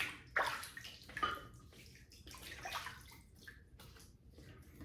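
Water splashes and trickles in short bursts as a face is wetted before a wet shave with a double-edge razor, faint and close, a few splashy strokes then softer dribbling.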